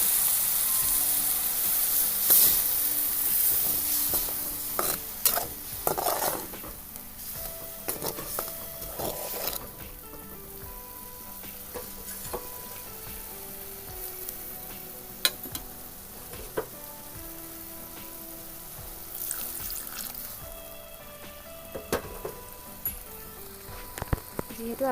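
Greens and pre-boiled dal sizzle and fry steadily in a pan, with occasional stirring scrapes and clinks, close and continuous throughout.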